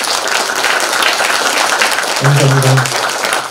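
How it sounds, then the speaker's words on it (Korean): Broad, steady applause from an audience of artists at a Hamyang arts gala evening fills the hall without letup, loud and close, with a single voice speaking briefly near the end. "우리 예술인들 모두 이 감사의 뜻을 담아 큰 박수 한번 보내주시겠습니까?"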